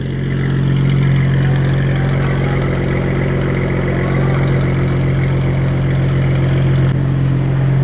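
A car engine with an upgraded exhaust, tuned past 500 hp, runs loud and close with a steady, throaty exhaust drone, rising slightly as it revs.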